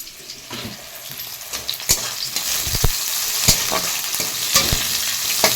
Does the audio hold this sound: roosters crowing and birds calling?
no